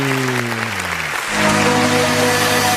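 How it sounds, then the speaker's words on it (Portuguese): A church congregation applauds at the close of an online worship service, a dense, loud wash of clapping with sustained organ or keyboard chords ringing beneath and shifting pitch partway through. "Vamos aplaudir o nome do Senhor?"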